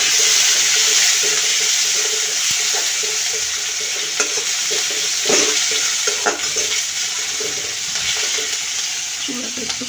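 Onions fry in a pan with a steady close sizzle and crackle, broken by scraping stirs and occasional soft clinks of a utensil.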